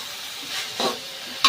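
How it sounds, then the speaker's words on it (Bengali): Vegetables frying with salt and turmeric are stirred in a pan, a steady close sizzle with two brief scraping stirs breaking through, no talk. "আর এখন আমি নাড়াচাড়া করে নিচ্ছি, নাড়ছি।"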